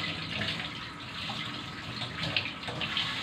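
Catfish being washed under a running tap, with a steady splashing stream of water pouring over the fish in a sink, close and fairly loud throughout, with no voices.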